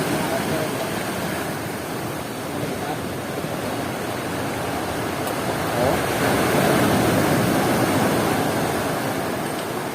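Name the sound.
sea waves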